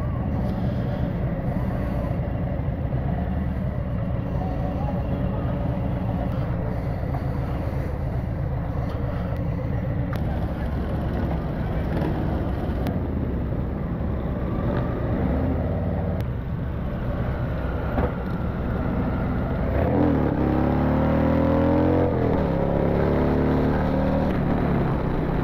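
A large group of about 120 Harley-Davidson motorcycles rides together, a loud, continuous engine rumble that builds further near the end, with no one speaking.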